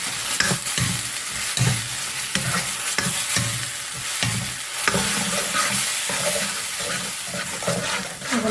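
Ground onion and tomato paste sautés and sizzles in a pan as it is stirred, a steady frying hiss broken by repeated scraping strokes of a spoon, close and fairly loud throughout.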